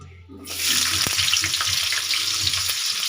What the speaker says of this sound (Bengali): গাজরটাও আমি অল্প করে ভেজে নেব